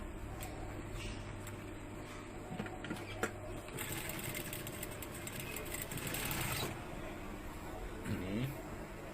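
A sewing machine stitches fabric in a quiet room, giving a low, steady mechanical hum and rapid needle chatter at moderate distance, with some faint talking and a few short bursts of activity mixed in.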